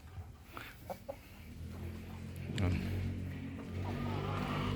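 Chickens cluck a few times in a coop at midday, with short calls near the start, then a steady low background hum and murmur that rise later, moderately quiet.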